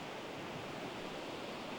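Sea waves washing onto the shore along a coastal lighthouse trail in Galicia, a soft continuous surf hiss heard faintly and evenly throughout, with no voices over it.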